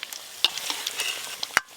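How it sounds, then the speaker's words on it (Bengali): Potatoes for biryani frying in hot oil, a close, bright sizzle with a couple of sharp utensil clicks against the pan, no voices. "বিরিয়ানির আলু লাল লাল করে ভেজে নিয়েছি"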